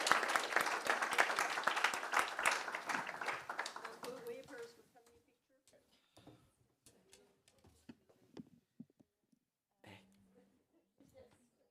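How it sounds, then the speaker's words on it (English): An audience at the EU Hydrogen Innovation Forum 2025 conference claps loudly after a panel discussion, the dense applause fading out over about four seconds into a quiet room with scattered shuffles, footsteps and brief murmurs of voices. "let's say hello to the stage with another round of applause"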